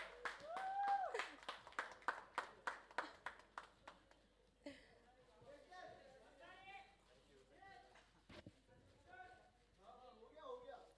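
Audience clapping at a film awards press conference, a run of distinct rhythmic claps at first that gives way to voices talking over scattered clapping, faint and moderately close.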